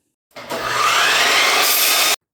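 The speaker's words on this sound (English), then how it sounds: "So I'll go ahead and cut off those unusable edges." Miter saw cutting off the unusable edges of planed wood boards, one loud close continuous cut lasting about two seconds with an abrupt start and stop.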